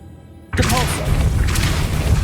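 A Depulso force spell cast in Hogwarts Legacy, a sudden loud whooshing blast after half a second of quiet, with a booming impact and a sustained rushing, crackling tail that fades slowly.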